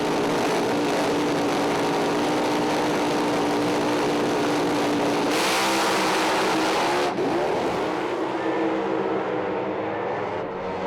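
A drag-racing dragster and a funny car launch side by side down the strip, a loud sustained roar of engines that surges, shifts in pitch as they pass, then fades toward the end.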